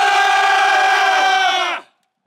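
A crowd of airsoft players at a survival game in bad weather lets out one loud, sustained unison battle cry, harmonic and chant-like, that holds for nearly two seconds before cutting off abruptly.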